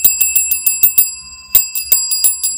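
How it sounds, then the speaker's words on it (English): A bright bell, rung close and loud about a dozen times in a quick, slightly uneven rhythm, with a sustained metallic ring between strikes and no voices. "every time a bell rings, Kate kicks cancer's ass"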